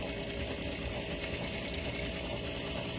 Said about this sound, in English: So now we're going to stitch down this side.